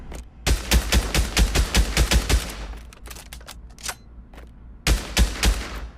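SCAR rifle in the shooter Pavlov on automatic: a loud, close string of about ten rapid shots, then a few scattered single shots, a short pause, and another brief burst at the end.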